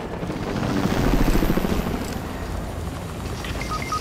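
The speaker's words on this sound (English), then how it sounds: "I don't wanna get on the chopper" A helicopter in the Fortnite video game, its low rotor roar droning steadily for a few seconds, with a faint higher tone in the background and no speech.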